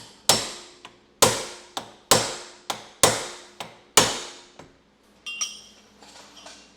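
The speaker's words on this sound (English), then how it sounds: "we're just gonna go ahead and tickle on our lower ball joint with this BFH and this pickle fork" Sharp metallic hammer blows on a pickle fork wedged into a lower ball joint on a 996 with 177k miles, six loud ringing strikes in an uneven rhythm, then fainter clinks of the tool shifting.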